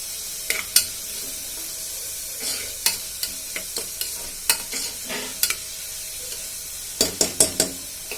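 Sweet corn frying with salt in a pan: a steady close sizzle with repeated sharp scrapes and clacks of stirring, no talking.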